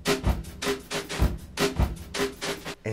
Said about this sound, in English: And so I've gone for a sort of adapted amen break on the drums,